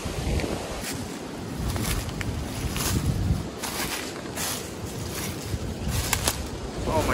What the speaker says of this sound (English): This wind is blowing so hard, blowing these leaves.